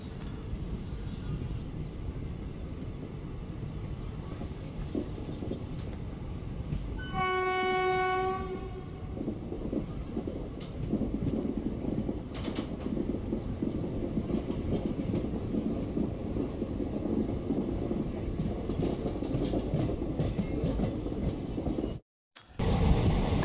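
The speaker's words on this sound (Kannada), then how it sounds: "ನಮ್ಮ ಟ್ರೈನ್ನ ಲೀಡ್ ಮಾಡ್ತಿರೋದು ವ್ಯಾಕ್ 7 ಲೋಕೋ" A passenger train hauled by a WAG-7 electric locomotive rumbles steadily along the line, with a loud multi-tone horn blast early on and continuous rolling rail noise throughout.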